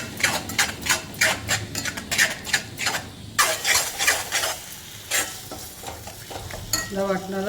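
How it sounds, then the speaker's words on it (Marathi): Ground masala paste sautéing in oil for a matki usal, with repeated rhythmic scrapes and clanks of a spoon against the pan over a soft sizzle, close and fairly loud. "त्याला थोडा वेळ तेलात परतून घ्यायचं."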